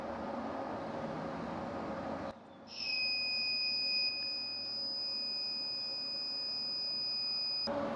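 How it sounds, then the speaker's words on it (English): A Battle Born lithium battery's audible alarm squeals under a 100 amp charge/discharge test: a loud, steady high-pitched electronic tone with a harmonic overtone that starts abruptly after a short pause and holds unbroken for about five seconds. "So that audible alarm was for? That's just this thing squealing."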